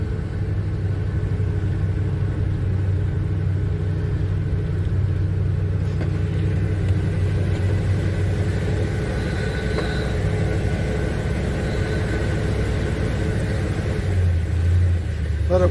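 A Chevy C10 pickup truck with a carbureted engine idling as it warms up, a steady close rumble with a low droning hum and slight revs throughout.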